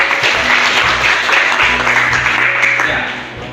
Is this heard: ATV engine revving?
no